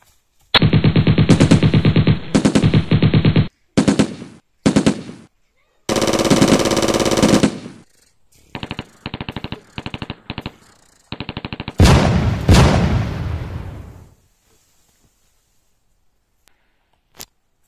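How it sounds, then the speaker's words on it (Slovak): Soldiers shooting in a radio drama about partisans in Slovakia: loud, close bursts of machine-gun fire and rapid gunshots in several volleys separated by brief gaps, ending in a final long burst before fading to near silence. "To strieľajú Nemci po nás."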